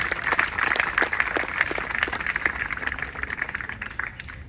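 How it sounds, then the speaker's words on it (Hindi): Loud applause from an audience at a state-level youth gram panchayat competition, cheering a first-place team; dense, continuous clapping from many hands that fades slightly toward the end. "इस टीम के उत्साह और परिश्रम के लिए जोरदार तालियां"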